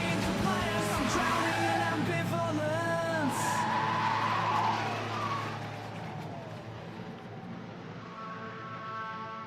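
An already damaged Nissan Skyline R34 drifting at the Sendai Highland drift meet, tires squealing in long wavering screeches for several seconds before fading into quieter engine noise.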